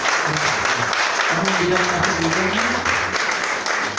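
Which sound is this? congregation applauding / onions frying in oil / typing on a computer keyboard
congregation applauding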